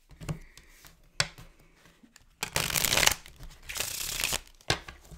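Tarot cards shuffled by hand in quick riffling bursts, with soft taps and crisp fluttering rushes of cards, close and clear, pausing between shuffles.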